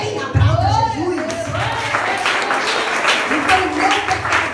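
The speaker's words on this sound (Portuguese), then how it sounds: "Aplauda Jesus" A church congregation claps along amid voices and shouts during a Portuguese-language service, with steady clapping mixed under talking and calls throughout.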